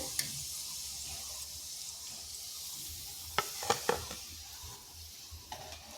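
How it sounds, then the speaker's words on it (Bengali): Flour gulab jamun balls deep-fry in oil with a soft, continuous sizzle, broken by a few sharp clinks and knocks of a utensil in the pan near the middle and end. "এইভাবে সবগুলো ভেজে নিচ্ছি।"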